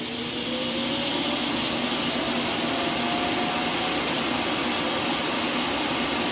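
An iRobot Roomba S9+ base dock empties the robot vacuum's bin, a loud, steady, jet-like roaring suction whoosh that holds continuously from start to finish with no speech over it.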